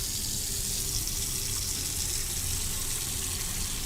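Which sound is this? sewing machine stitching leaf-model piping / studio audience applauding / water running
water running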